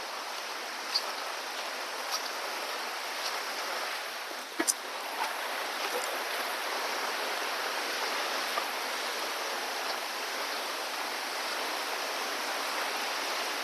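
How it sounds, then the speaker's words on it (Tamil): A forest stream flowing steadily with a broad, even rush of water heard from nearby, broken only by a few faint clicks and knocks. "தண்ணி சவுண்ட் கேக்குது."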